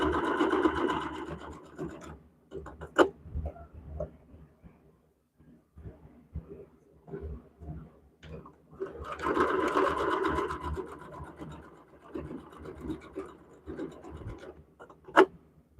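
A sewing machine stitches fabric for a quilt block in two brisk bursts, one at the start and one midway. Quieter handling, scratching and a couple of sharp clicks fill the gaps between them.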